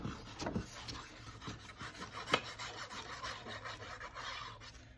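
A glued paper flap on a handmade gift bag is pressed and smoothed down with the fingers, giving close, soft rubbing and scratchy rasping strokes with a sharper crinkle partway through.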